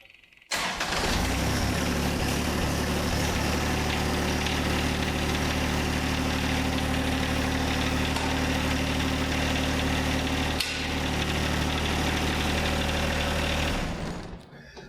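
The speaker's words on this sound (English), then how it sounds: "Start the tractor up." A John Deere tractor engine starts with a sudden catch and then idles in a steady, close, mid-pitched rumble for over ten seconds before shutting off.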